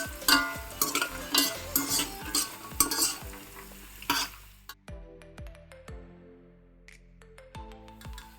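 Coconut and nuts frying in ghee for payasam, a crackling sizzle with repeated spatula clinks against the pan that gives way to sparse metallic taps and a quiet tail, close and fairly soft.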